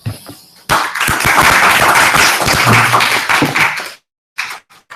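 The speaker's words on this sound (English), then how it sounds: "let's applaud Roma." A burst of close, loud audience applause lasts several seconds, then stops abruptly, followed by a few scattered claps.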